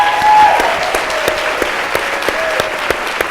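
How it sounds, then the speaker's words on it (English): Audience applause at a university dialogue event, a steady dense wash of clapping that opens loudest and thins slightly, with a voice briefly audible at the start and scattered sharper claps standing out. "thank you again for giving them another huge round of applause"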